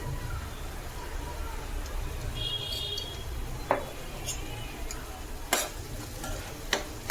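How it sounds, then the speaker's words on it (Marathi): Chopped onion, tomato and green chili sizzling in a pan for homemade paneer bhurji, giving a steady low crackle with occasional sharp clinks of a spoon against the pan and a faint brief whistle-like tone. "इकडे आपण मस्तपैकी कांदा टमाटर भाजायला ठेवलंय"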